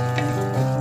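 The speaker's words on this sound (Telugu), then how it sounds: "కొద్దిగా మినపప్పు ఫ్రై చేసుకోండి" Urad dal sizzles in hot oil with a dense, continuous crackle and hiss, close and fairly loud, with a few sharper pops along the way.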